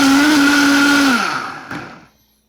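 A Vitamix blender blending cashews and water roars with a loud, steady motor whine, then winds down and cuts off near the end, followed by brief quiet.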